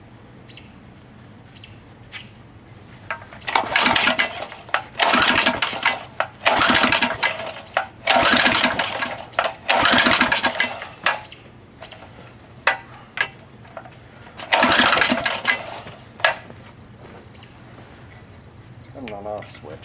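An old Briggs engine fitted to a Rupp machine is pulled over in several loud, rough bursts of cranking and sputtering running, separated by pauses, with birds chirping in the background.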